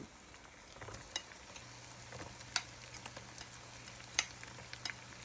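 Crab stir-frying in a pan, with a steady close sizzle and scattered sharp clicks and ticks of a utensil against the pan. No one speaks.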